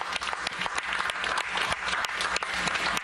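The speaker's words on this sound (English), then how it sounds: "There better be more clapping." Applause from a live stream audience, dense and continuous clapping throughout, close and fairly loud.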